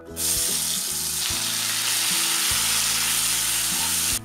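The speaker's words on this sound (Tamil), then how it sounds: "இப்போ நம்ம ஆனியன் பியூரி ஆட் பண்ணிடலாம்" Onion puree hits hot oil and spices in a pan, giving a loud, steady frying sizzle that carries on unbroken, with a faint stirring scrape near the start.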